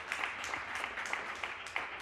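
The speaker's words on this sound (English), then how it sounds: "I knew that would get a round of applause" Steady, dense applause from a conference audience at the NGI Forum 2023, a continuous wash of many hands clapping at moderate distance, with no talk over it.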